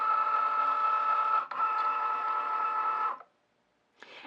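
A Cricut Joy cutting machine slices vinyl for teacher gifts with a steady, loud mechanical whir that stutters briefly midway, cuts off after about three seconds, then starts up again near the end.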